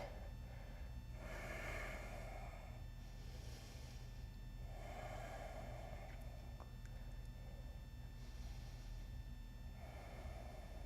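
Slow, audible breathing while holding a lizard pose in yoga: about five airy breath cycles, evenly spaced and close, over a steady low hum, with no talking.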